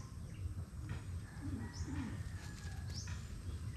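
A pigeon or dove coos softly a few times at a distance over steady outdoor background noise, with faint chirps mixed in.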